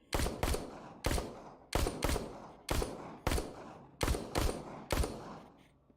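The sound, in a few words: gunfire in The Walking Dead: Saints and Sinners video game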